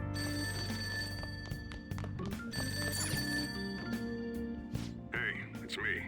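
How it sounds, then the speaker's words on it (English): A telephone rings downstairs in the video game Persona 5 Royal, its repeating electronic trill heard over the game's background music with a voice talking in between. "Ringing sound isn't coming from my cell phone. We're coming from downstairs."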